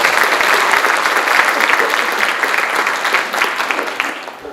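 A lecture audience breaks into loud, sustained applause to welcome a speaker, dense clapping that fills the room and then slowly tapers off.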